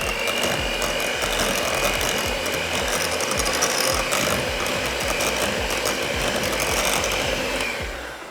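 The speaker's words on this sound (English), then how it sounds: "It was really just a few seconds of whisking." Cheesecake batter with flour being whisked slowly in a bowl, a steady, continuous close-up scraping and rattling with fast repetitive clicks, loud and uninterrupted before easing off at the very end.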